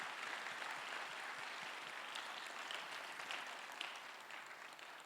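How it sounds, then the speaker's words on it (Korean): A chapel audience at a Methodist theological seminary service applauds in thanks, a steady, dense wash of many hands clapping that holds evenly for about five seconds with no talk over it. "함께 박수로 감사의 표현을 하겠습니다."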